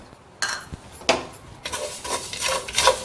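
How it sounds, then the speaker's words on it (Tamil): Fenugreek seeds roasted in a clay pot over a fire, stirred with light scraping and rattling of seeds against the earthenware in several short bursts, close and moderately loud with no talking. "அடுத்தது நெருப்பு மூட்டி நான் ஒரு மண் பாத்திரம் வச்சிருக்கேன். அதுல நம்ம வெந்தயத்தை வறுத்துக்கலாங்க."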